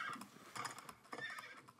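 A horse in the Animal Jam video game gives a short, soft whinny with a couple of rising bursts, faint and heard alone.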